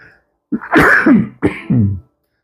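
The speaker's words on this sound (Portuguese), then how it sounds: "Desculpe a tosse." Two close, sharp coughs, the second following about a second after the first, with a throaty, rasping edge.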